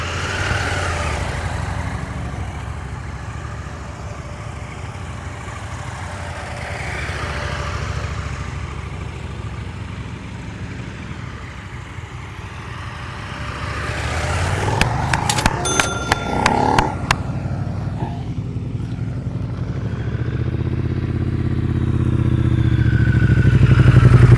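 A motorcycle creeps through a slow-speed riding skills practice session, its engine a low, steady putter close by, with a few bright metallic clinks midway and the engine note swelling louder toward the end. No one speaks.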